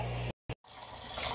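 Tap water runs through an aquarium Python hose as a steady rushing hiss. A brief silence with one short burst comes first, then the continuous flow resumes.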